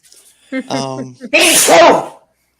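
A single loud, close sneeze bursts out after a short vocal intake, ending abruptly into silence.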